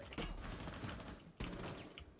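Gunfire in a video game rattles in two bursts of rapid shots, the second starting suddenly after a short lull, moderately loud with no talk over it.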